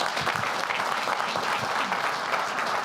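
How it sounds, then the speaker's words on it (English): Audience applauding at a village board meeting, a steady, full wash of clapping from a roomful of people that holds for the whole stretch without pause. "Let's give them another round of applause."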